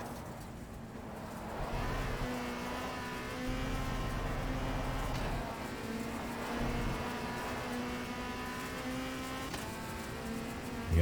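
A WTCC race car engine at Monza in a racing video game drones steadily throughout, holding a sustained revving note with slight pitch shifts as it pulls through gears, loud and unbroken with no voices.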